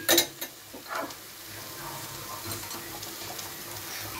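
Rohu fish pieces go into a raw banana curry simmering over lowered heat, with a few clattering knocks at first, then a soft, steady bubbling sizzle.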